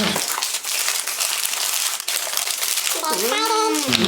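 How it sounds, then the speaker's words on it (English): A fragrance package is unwrapped up close, with loud crinkling and tearing of wrapping paper throughout, and a person's voice rising briefly near the end. "You want to unwrap that?"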